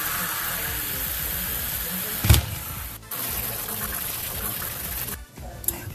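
Kitchen tap water streams steadily over mushrooms being rinsed while cooking penne pasta, a close continuous gush with a brief clatter midway and a couple of short breaks in the flow.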